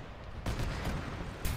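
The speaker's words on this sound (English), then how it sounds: "Is the artillery firing again?" Muffled booms and gunfire from a Warhammer 40K battle in the video game Arma 3, with a heavy blast starting partway through and a low continuous rumble of shooting throughout.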